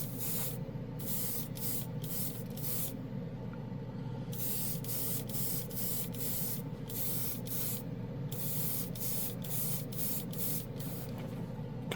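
Alclad chrome paint hisses from a spray can in a series of short, close bursts separated by brief gaps, steady and loud with no talking.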